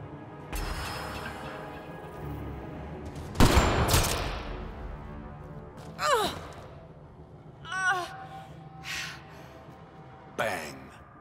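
A single sharp sniper rifle crack rings out in Mass Effect Andromeda, set at Kadara Port, followed by a few quieter transients over a sustained tonal background.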